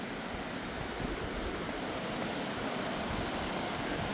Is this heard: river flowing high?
yes